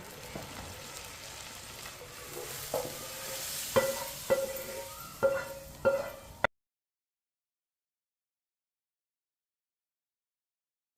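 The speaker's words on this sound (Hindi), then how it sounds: "अब तड़के को दाल में डाल लेंगे।" Hot oil tempering sizzles and crackles steadily as it is added to masoor dal, with a few sharp clanks of a utensil against the pan, then the sound stops abruptly.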